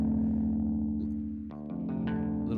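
An electric guitar plays sustained, evenly compressed notes with a smooth, squashed tone, a brief dip, then a few plucked notes ringing out.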